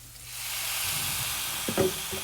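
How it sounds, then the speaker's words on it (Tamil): Chili vinegar hits fried rice in a hot pan, setting off a loud, steady sizzle that swells and holds, followed near the end by a couple of brief utensil scrapes. "இப்போ வந்து ஃபஸ்ட்டு வந்து சில்லி வினிகர் விடுறேன் நான் ஃபஸ்ட்டு"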